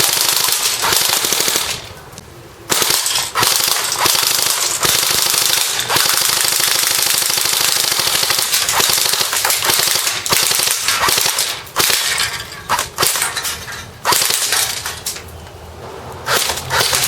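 A JG G3 airsoft rifle fires on full auto at a large can, rapid rattling bursts of shots punctuated by short pauses, sharp and loud up close, with clattering hits and no talking.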